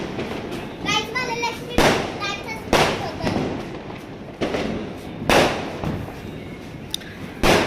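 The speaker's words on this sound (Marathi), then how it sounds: "आज मस्तपैकी आतिषबाजी चालू आहे." Diwali firecrackers burst during Lakshmi Puja, a series of sharp loud bangs about every second, with whistling and crackling rockets early on and children's voices faintly between the blasts.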